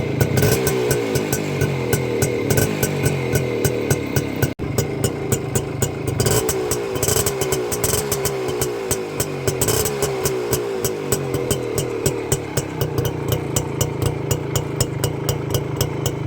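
Suzuki Max 100 motorcycle running on its stock silencer, a steady close-up exhaust beat with rapid regular pulses and a few small rises in revs, no voices over it.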